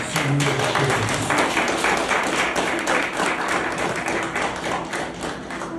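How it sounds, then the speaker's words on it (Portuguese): A church congregation claims for Jesus during a worship service, a dense, loud and continuous burst of applause filling the room with no talk on top. "Dê uma salva de palmas para o Senhor Jesus."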